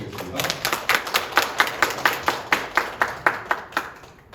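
An audience at a Mannatech one-day seminar in Yanji claps in unison to welcome the first speaker, a steady rhythmic beat of many hands, fairly close and lively throughout.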